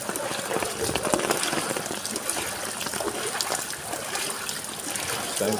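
Water runs and trickles steadily during rain, a continuous broadband rush with small splashes close by, and a faint voice now and then.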